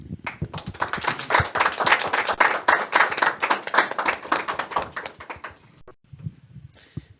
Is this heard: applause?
yes